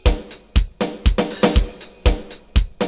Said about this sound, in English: I have what I call lightweight drum fill.